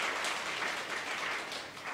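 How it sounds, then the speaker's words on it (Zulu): A crowd at a gathering claps together in a dense, steady wash of applause that stays fairly loud from start to finish. "ngicela sishaye nje ihlombe elikhulu"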